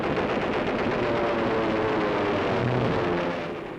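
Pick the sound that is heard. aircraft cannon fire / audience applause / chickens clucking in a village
aircraft cannon fire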